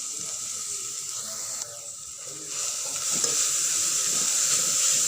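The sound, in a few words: grated beetroot and carrot stirred and sizzling in a pan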